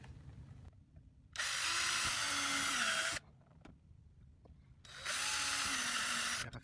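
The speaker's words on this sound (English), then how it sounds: "Let's go ahead and drill the rest." A power drill whirs loudly in two bursts of roughly two seconds each while drilling for flush-mount LED lights on a Jeep Wrangler, separated by a quiet pause with faint background noise.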